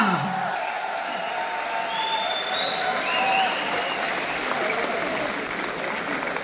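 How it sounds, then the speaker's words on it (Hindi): Loud, sustained applause from an audience at a company event in India, dense clapping that carries on through the whole stretch with a few whoops mixed in. "जोरदार तालियां"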